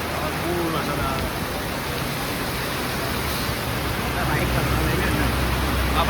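Heavy rain pouring down during a storm at a village camp under a canopy, a dense continuous hiss of rainfall close by, steady and loud throughout, with people talking underneath.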